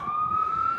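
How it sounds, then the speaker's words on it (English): An ambulance siren sounds on a city street in Brooklyn, a loud steady wail rising slightly in pitch as it approaches, over low traffic rumble. "Looks like we have an ambulance coming up 4th Avenue now."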